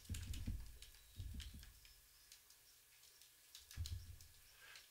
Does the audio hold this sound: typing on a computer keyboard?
yes